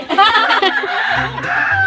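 A red rooster in a rural provincial vegetable garden gives loud, close, strained crowing and clucking calls, one continuous throaty burst lasting about two seconds.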